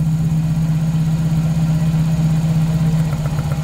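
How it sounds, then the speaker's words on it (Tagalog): A Toyota 4A-FE car engine with a head gasket problem idles steadily with a constant low hum and fine rhythmic vibration, close and loud. "Pakinggan nyo andar ng makina."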